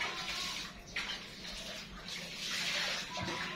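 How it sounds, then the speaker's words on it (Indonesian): Warm agar-agar jelly is poured over small fruit cakes in a steady, close, splashing trickle that swells and fades in a few surges, with no talking. "Ini akan saya siramkan ke kue buahnya ya."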